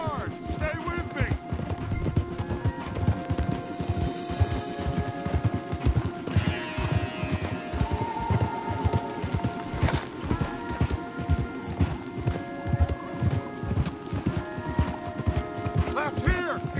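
Horses galloping hard in Red Dead Redemption 2, a steady rapid drumming of hooves that runs throughout, with occasional shouted voices and other game sounds layered above.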